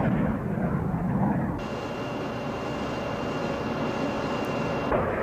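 A jet aircraft climbs steeply during a bombing run, a steady, moderately loud engine roar with a sustained high whine that enters partway through and cuts out near the end, no voices present.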